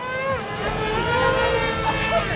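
Several RC model airplanes fly in a combat demo at the Joe Nall event, their engines whining and droning together with shifting pitch, loud and continuous, while people talk underneath.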